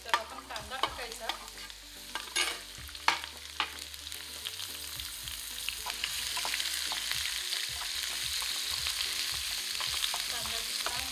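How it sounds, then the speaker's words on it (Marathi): Onion frying in hot oil with cumin seeds: clattering stirs and scrapes of a spoon against the pan at first, then settling into a steady, dense sizzle. "कांदा छान फ्राय करून घ्यायचा"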